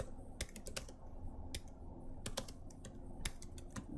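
Quick bursts of typing on a computer keyboard, sharp key clicks in irregular clusters, close and fairly quiet against a still room.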